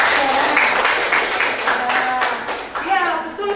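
Classroom applause from students during a chemistry lesson, lively clapping close by with children's voices and a teacher talking over it, fading slightly toward the end.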